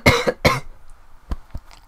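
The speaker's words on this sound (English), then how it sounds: "I'm gonna cough." Two sharp coughs close together, followed by a couple of softer, short throat sounds after a pause.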